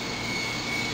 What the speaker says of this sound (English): just the Quark, such a nice little helicopter